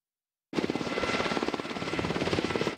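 A military helicopter comes in to land during an army exercise, with its rotor chop loud and close, beating steadily and continuously after a sudden start.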